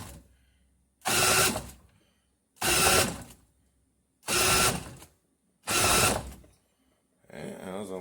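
A cordless drill with a half-dead battery spins a homemade PMA generator in four separate whirring bursts of about a second each, with short silent gaps between them and a weaker fifth burst at the end, loud and close.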